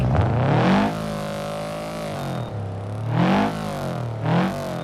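A video game car engine revs up loudly, drops back to idle, then revs twice more in quick bursts, with no talking.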